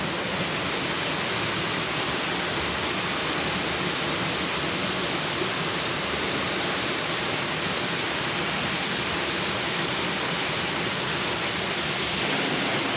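Continuous rushing water from a river, a broad steady roar flowing nearby, with no voices.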